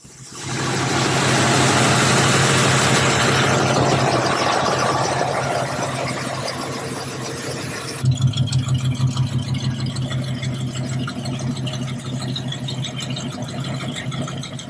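A Ford Torino GT's 5.8-liter V8 runs loudly up close, first as a broad, steady roar with a faint squeal, then settling into a lumpy, pulsing idle for the rest of the stretch.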